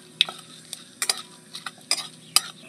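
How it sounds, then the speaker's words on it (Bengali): Bay leaf, dried chilli, whole cumin and whole garam masala are stirred in hot oil in a pan, giving sparse, sharp spoon clinks and scrapes over a faint, quiet sizzle. "সব ফোড়ন দিয়ে একটু হালকা করে একটু তেলের মধ্যে নেড়ে নেব"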